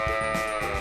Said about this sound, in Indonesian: kambing yang sedang diperah kali ini jenisnya kambing Alpen